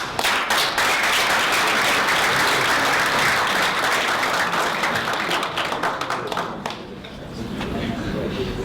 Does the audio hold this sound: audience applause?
yes